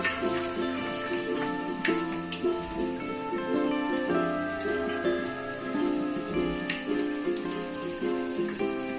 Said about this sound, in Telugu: అది ఆయిల్ హీట్ అవుతుంది కదా, చిన్నగా కట్ చేసుకున్న గార్లిక్ వేస్తున్నాను